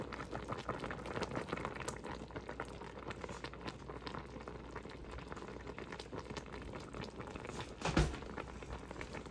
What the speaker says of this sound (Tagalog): Yan, pakuluin nyo lang po yan